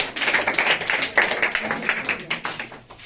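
Loud, dense applause from a school audience after a student's Raksha Bandhan essay recital, steady clapping rising and falling for about three seconds with no voices over it.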